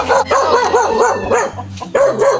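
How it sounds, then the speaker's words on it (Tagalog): An unleashed dog barks repeatedly at close range, a quick run of sharp loud barks with short pauses between bursts. "Ay, naku, may aso. May aso."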